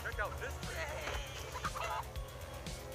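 Chickens from the chicken coop card in South Park Phone Destroyer, a run of close, fast clucking and gobbling fowl calls layered over game sounds, with a voice talking in the background.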